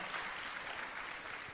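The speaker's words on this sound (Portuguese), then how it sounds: "Pode aplaudir, gente, me dá uma força aí" Congregation applauding at a Saturday church service, a steady wash of many hands clapping together that holds evenly throughout without pause.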